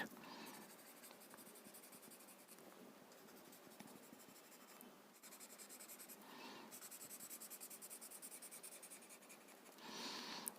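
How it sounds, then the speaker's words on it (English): Graphite pencil blending and shading on paper, faint close-up scratchy rubbing strokes in repeated short passes, quiet and alone. "Just blend the graphite."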